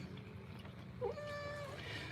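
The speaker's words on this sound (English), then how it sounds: "they become very mournful with a very heavy unwet meow" A ragdoll cat gives a single drawn-out, mournful meow during grooming before a bath, moderately close against a low steady room hum, with no talking.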